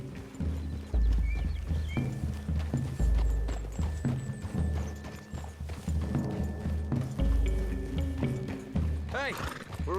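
Horses' hooves clip-clop steadily through the Red Dead Redemption 2 game world, close and loud, with an occasional whinny, layered under game music and voices talking.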